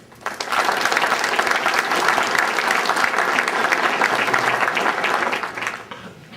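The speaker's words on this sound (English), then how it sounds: "Please give a round of applause for Rear Admiral Mark Belton." An audience applauds Rear Admiral Mark Belton, with clapping rising quickly after a brief lull, holding at a full, dense level for several seconds, then tapering near the end.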